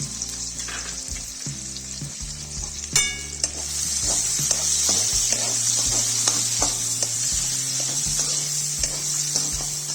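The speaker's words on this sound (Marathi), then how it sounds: "आता त्याच तेलामध्ये मी 2 लांबसर चिरलेले कांदे टाकणार आहे." Two lengthwise-sliced onions drop into hot oil in a kadhai and fry for egg biryani, the sizzle swelling loud and steady after a splash, with occasional utensil clicks and stirring.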